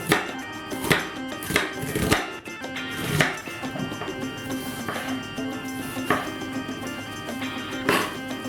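Knife chopping onion on a board for steak tartare, a series of sharp, irregular taps close by, a few louder strikes at the start and quieter cuts after.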